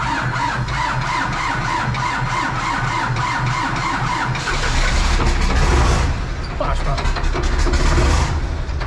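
An Ursus C-330 tractor engine turns over and catches, then settles into a heavy, low diesel rumble close by, running on steadily while people talk nearby.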